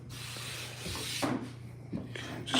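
Wooden cabinet trim pieces being sanded by hand: a steady, close rubbing scrape that runs through the clip, with a few brief louder strokes and bumps of the wood.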